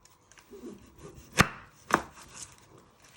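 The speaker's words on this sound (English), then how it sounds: "you just want to trim the other ends off your onion" A knife trims the ends off an onion on a cutting board: two sharp, distinct chops stand out against faint scraping and handling noises, close and quiet, with no talking.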